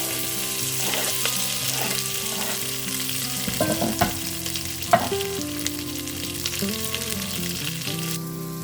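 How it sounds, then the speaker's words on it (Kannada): Spices crackle and sizzle in hot oil as tempering for North Karnataka-style cabbage palya, a steady frying hiss with occasional sharp pops and stirring clatter, close up with no talking. "ಒಗ್ಗರಣೆ ಹಾಕ್ಕೊತಾ ಇದ್ದೀನಿ"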